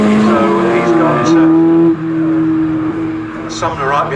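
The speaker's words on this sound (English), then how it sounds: "Meanwhile, for second position overall is nose to tail pretty much now, heading up towards Coram Curve, because Richard Plant has caught Andrew Tho" Morgan sports cars race nose to tail at Snetterton circuit, engines wailing loud and close as they rise and shift through gears, with a commentator talking over the passing cars.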